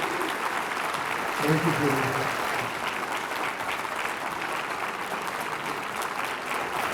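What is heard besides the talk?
audience applause for the candidates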